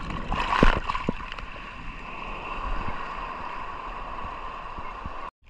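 Big waves wash and slap against a small fishing boat out on open water, a steady broadband rush with a louder surge near the start, no voices.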